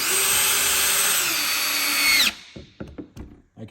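A Festool TPC 18/4 Quadrive cordless hammer drill in second gear drives steadily and loudly for about two seconds with a high whine, then stops, followed by a few short thumps and clatters.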